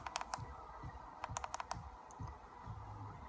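Evic Mini vape mod button clicked repeatedly, a quick burst of three sharp clicks followed by another cluster of rapid clicks, close and crisp over low background hum.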